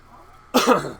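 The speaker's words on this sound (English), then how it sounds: "Excuse me for coughing" A single sharp cough from a man recording a game guide, close and loud after a quiet moment, tailing off quickly with a rough throaty edge.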